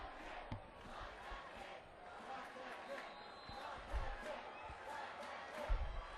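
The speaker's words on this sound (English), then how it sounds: "Block that kick is the chant from the Blue Gold crowd here." Blue Gold football crowd at Carson Park, Eau Claire, chanting rhythmically during a kick attempt against Saint John's, a distant, reverberant roar of many voices with scattered thumps, faint under an announcer's commentary.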